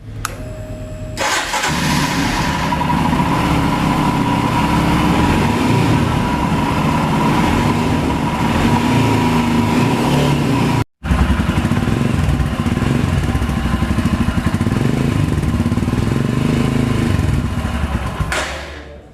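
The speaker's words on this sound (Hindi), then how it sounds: "अब चलिए सुन लेते हैं इस बाइक का एग्जॉस्ट नोट" A Royal Enfield Himalayan 400 motorcycle engine starts and runs with a deep, steady exhaust rumble for a long stretch, broken by one brief cutout, then fades at the end.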